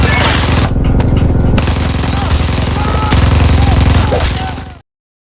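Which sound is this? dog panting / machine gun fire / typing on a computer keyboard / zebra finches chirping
machine gun fire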